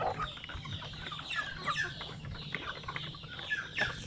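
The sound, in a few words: chickens clucking on a poultry farm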